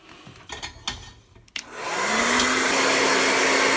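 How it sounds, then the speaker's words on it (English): A hair dryer heating a 59Fifty cap switches on after a few light handling clicks, then blows a steady, loud, close whooshing roar with a constant motor hum that continues to the end. "I'm going to actually use a Sharpie with the heat from the hairdryer"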